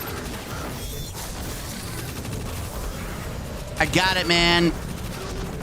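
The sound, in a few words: SMG gunfire in the video game Destiny 2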